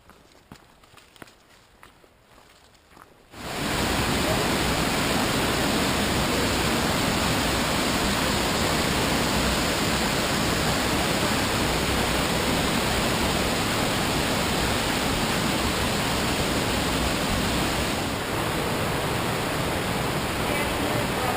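A waterfall at Deer Falls in the Grand Canyon gushes as a steady, loud broadband roar that sets in after a few seconds of quieter sounds and continues unbroken.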